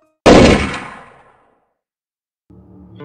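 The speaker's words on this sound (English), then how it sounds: "Leon took out his gun and" A single loud, close gunshot sound effect with a sharp blast that decays over about a second, followed by silence and then a low tone.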